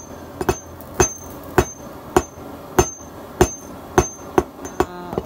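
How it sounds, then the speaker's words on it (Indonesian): Hammers strike metal in a blacksmith's forge while a badik blade is being made, ringing blows at an irregular, fairly steady pace, about a dozen sharp impacts over a faint background. "di sini ada palu-palu yang dipakai untuk menempah"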